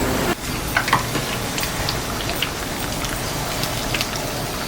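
Kerala-style sweet banana vada fry in hot oil with a dense, steady crackling sizzle at close range. Occasional stirring or turning sounds come through, with no speech.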